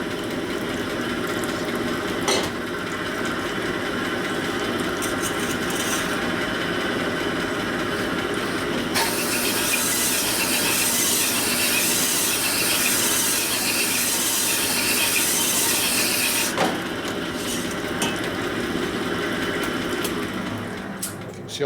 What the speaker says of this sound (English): See all that chattering.